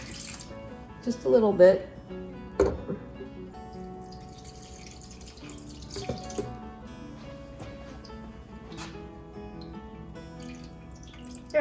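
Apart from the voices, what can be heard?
pouring turkey stock into a roasting pan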